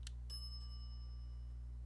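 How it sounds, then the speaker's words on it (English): A service bell on a bank counter in The Secret of Monkey Island: Special Edition is struck several times in quick succession, each bright ding ringing on clearly and fading out over a steady low hum. "some idiot's already ringing that stupid bell"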